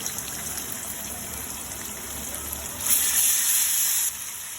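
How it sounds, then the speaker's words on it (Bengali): Water poured into a hot pan of garlic paste gives a short, louder gushing hiss lasting about a second over a quiet background sizzle. "একটু পানি দিয়ে দিলাম শুকানোর জন্য"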